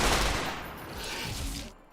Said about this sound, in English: Now I'm hearing some explosions and gunfire.